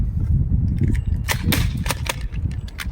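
A Nerf blaster fires half darts in rapid succession during a 100-dart challenge. It gives a steady run of sharp, snappy pops over a constant mechanical whir and rustle, close up.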